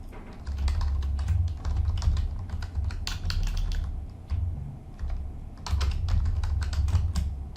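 Rapid clicking of keys as a command is typed on a computer keyboard at a command prompt, in close bursts with brief pauses between, no talking.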